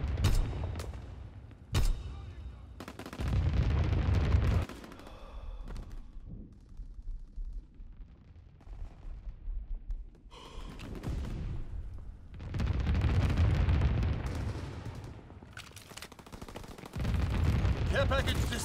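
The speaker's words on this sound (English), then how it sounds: "Flak battery in position. Clear the skies. Flak guns firing." Flak guns in the World War II shooter Call of Duty: WWII fire in long, heavy, booming bursts with thick rumbling blasts separated by brief lulls. Loud and close, with no talking.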